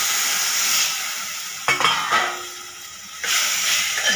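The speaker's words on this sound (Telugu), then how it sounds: "ఇప్పుడు ఈ టమాటాలని కాసేపు ఫ్రై చేసుకున్నాము." Tomatoes fry for a chutney in a hot pan, giving a loud, steady sizzle with a few sharp bursts and scrapes as they are stirred, close and alone without any talk.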